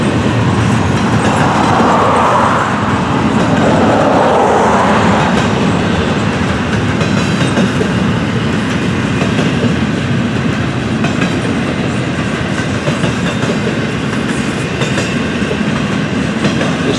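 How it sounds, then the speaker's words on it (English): A unit train rolls past at night and drifts toward its stopping spot, a loud, steady rumble of railcars with rhythmic clickety-clack from the wheels and a faint squeal, continuous throughout. "Train will drift up to its stopping spot."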